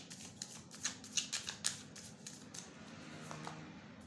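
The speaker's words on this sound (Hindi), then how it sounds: "लेकिन पहले सारे कार्ड्स निकाल लेती हूँ मैं।" Tarot cards drawn from a deck, a quiet series of crisp card snaps and riffling flicks in the first half, then fading to near silence.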